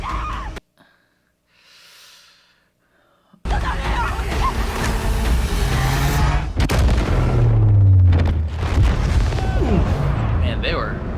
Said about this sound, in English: Man, they were mighty close to that explosion.